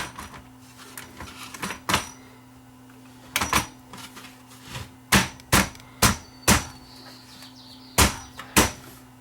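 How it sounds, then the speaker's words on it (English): A VCR chassis is dropped back into a Sanyo VHR-H600 VHS player, giving a series of sharp plastic-and-metal knocks and clacks at irregular intervals over a steady low electrical hum. "So we drop the chassis back in."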